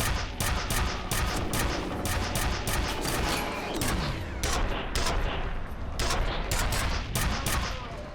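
Dense gunfire and repeated explosive bursts from the first-person shooter F.E.A.R., with loud rattling volleys and heavy booms including a grenade blast, continuous and close throughout with a few short pauses between salvos.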